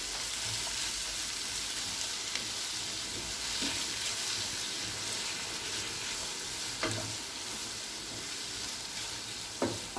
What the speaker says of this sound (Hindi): अब इन्हें अच्छे से मिक्स कर लेंगे।